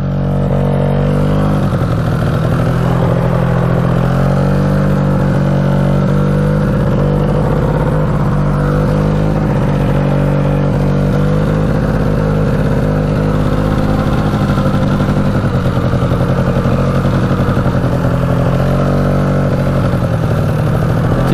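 A cheap 4x4 ATV engine driving through deep holes on a trail, a loud, close, steady mid-pitched drone with its pitch rising and falling slightly as the throttle shifts, continuous throughout with no talking.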